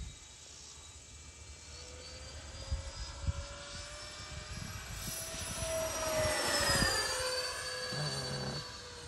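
A Freewing A-10 Thunderbolt II twin 80mm electric ducted-fan RC jet roars at full power along a runway, a loud rising whine that sweeps and swells as it passes close by.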